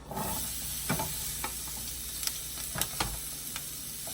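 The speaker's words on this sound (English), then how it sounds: "Now I'm gonna saute the peppers." Peppers sautéing in a hot pan, a steady close sizzle and hiss with occasional scraping clicks of stirring.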